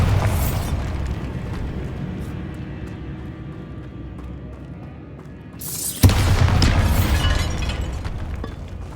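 Bombarda explosion spell cast in Hogwarts Legacy inside a tomb: a sharp loud blast hits near the six-second mark and then a sustained rumbling boom rolls on, with game ambience running before it.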